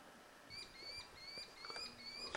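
Birds call out in a forest beside a river, thin repeated whistling notes rising at intervals above a faint background, distant and quiet.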